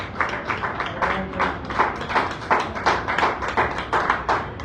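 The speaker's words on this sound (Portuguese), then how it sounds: "uma efusiva salva de palmas para vocês também" At a church workshop gathering, the congregation claps in a steady, rhythmic pulse, with many hands striking together on each beat at moderate loudness and no talk over it.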